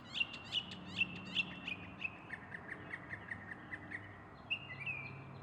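A Northern Mockingbird sings a run of bright, repeated chirps and whistled phrases in a quick, steady rhythm, close and clear against a faint urban background with no talking.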